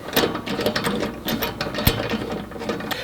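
Ratchet wrench with a 3/4 inch socket tightening 1/2 inch-20 open lug nuts on a Jeep JL Wrangler tire carrier, a rapid, steady run of close, loud pawl clicks across the whole stretch with no talk.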